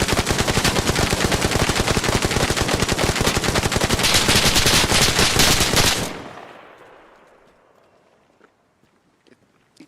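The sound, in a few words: machine gun firing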